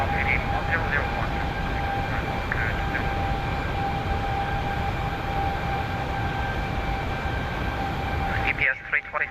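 A Boeing 737 MAX powers up for takeoff in the X-Plane 11 flight simulator, a loud, steady broadband engine roar with a faint whine that holds throughout and drops away abruptly at the very end.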